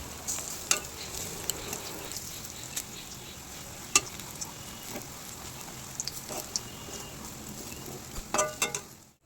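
Steady sizzle of lentil fritters frying in hot oil, with scattered sharp crackles and pops throughout and a louder burst of spitting near the end.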